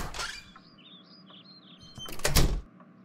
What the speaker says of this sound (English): I'm opening the damn door.